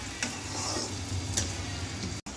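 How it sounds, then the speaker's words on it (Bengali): Cumin seeds and dried red chillies frying in hot oil for a khichuri tempering, a steady close sizzle with a few faint ticks, no voices. "বাগারের জন্য লাল লাল করে একটু ভেজে নেব"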